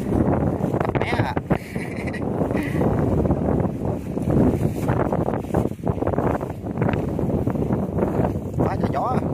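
Strong wind blowing outdoors at a shrimp farm, buffeting the microphone in gusty rumbles while people talk over it throughout.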